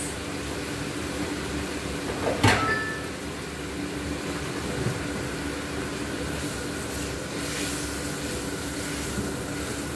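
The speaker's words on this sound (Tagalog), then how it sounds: "i-blender na natin yung ating sauce." A blender whirs continuously at a steady pitch, blending butter chicken masala sauce, with a brief clatter near the start and no talking.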